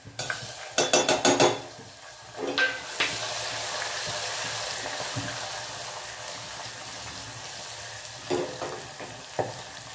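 Green chillies frying in hot oil with cumin and turmeric for Khandeshi brinjal bharit, a steady close sizzle with bursts of crackling spatter and occasional stirring scrapes.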